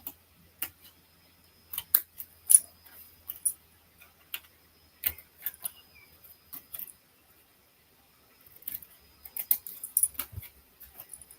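Scissors snip and trim excess pieces of paper at a craft table, giving a sparse series of short, crisp cuts and rustles, close and quiet with pauses between them.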